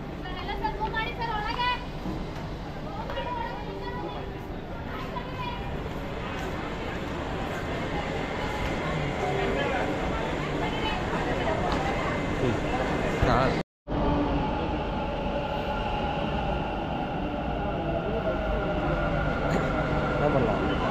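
Steady rumble and rattle inside a moving, crowded Bangalore metro train carriage, with a crowd murmuring throughout and a brief dropout partway through.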